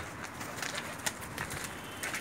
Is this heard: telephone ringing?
no